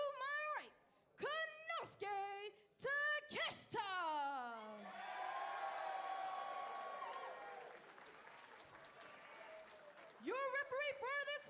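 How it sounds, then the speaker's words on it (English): A wrestling crowd applauds a wrestler's entrance with a sustained wash of clapping in the middle, set between stretches of loud, drawn-out announcer-style voice. "A round of applause and ovation for the Invisible Man making his way to the ring."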